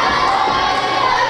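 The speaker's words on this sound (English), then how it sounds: "Fans here at the Battle Zone cheering on Phage." Wrestling fans at the Battle Zone cheer loudly, a dense, continuous roar of shouting voices that fills the hall without a break.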